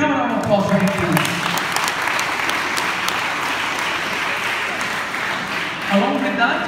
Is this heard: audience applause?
yes